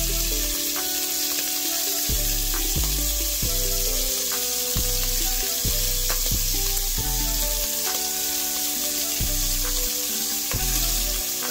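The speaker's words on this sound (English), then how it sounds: "Once it's heated up, we're gonna add our shrimp one at a time." Shrimp sizzle in hot avocado oil over medium-high heat, a dense, steady close-up frying hiss with repeated soft thuds and clinks as pieces are placed and turned; no voices.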